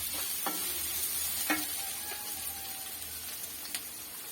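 Onions sautéing in a pan for an egg roast, a steady soft sizzle broken by a few sharp scrapes and taps of a stirring spoon against the pan.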